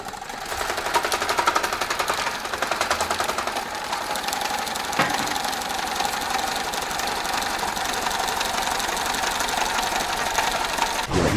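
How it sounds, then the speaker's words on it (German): An electric fan switched on and running indoors, a steady mechanical whir with a fast rattling pulse that holds at a constant moderate level throughout. "Kannst du mal den Ventilator anmachen?"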